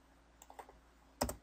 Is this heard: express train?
no